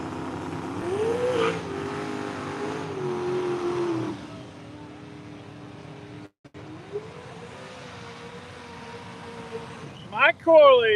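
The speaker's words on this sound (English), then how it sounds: "From Canada, the Chevy S10 427 cubic inch LS, sponsored by Senator Performance True and North Turbos" Chevy S10 drag truck with a 427 cubic inch LS engine at a no-prep drag race, revving loudly with rising pitch then settling, before a sharp sweep near the end, with an announcer talking over it.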